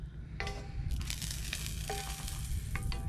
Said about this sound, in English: we are still cooking the salmon outside